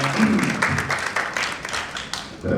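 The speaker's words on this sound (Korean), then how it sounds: "우리 이광재 의원님의 말씀을 박수로 모시겠습니다" Audience applause welcoming lawmaker Lee Kwang-jae to speak at a Korean political forum on local self-government, a steady dense clapping that carries throughout at moderate loudness.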